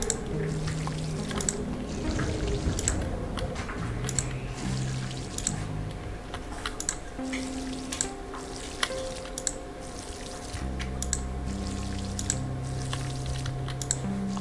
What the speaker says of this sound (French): Je vais arroser les plantes.